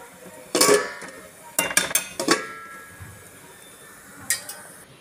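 Metal clanks of a lid being set onto a cooking pot in a home kitchen, several sharp clinks in quick succession, then a lone clink after a pause.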